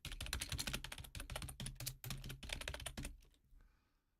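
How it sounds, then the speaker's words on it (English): Rapid, steady typing on a computer keyboard, with close, crisp keystrokes clattering in quick bursts for about three seconds before tapering off into quiet. "Typing ASMR."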